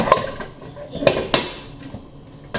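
Two Indian-made pressure cookers, roughly 5 and 3 litres, being handled: a few sharp metallic clanks and knocks of the pots spaced through the moment, close by, with someone talking around them.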